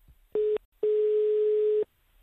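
Two electronic tones on one steady pitch: a short beep, a brief gap, then a longer tone about a second long, like a phone line signal.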